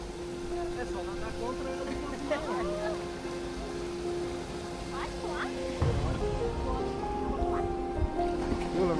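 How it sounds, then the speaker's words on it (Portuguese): Waterfall water rushes in a steady broad roar during a raft crossing in Bonito, Brazil, with voices talking over the constant flow throughout. "Cruzamos outra cachoeira."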